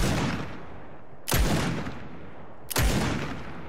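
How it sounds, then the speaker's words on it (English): Gunshots hitting wood in the video game Fortnite: three loud, sharp shots spaced more than a second apart, each with a long, fading echo tail. "So it actually needs four shots before it can destroy a piece of wood"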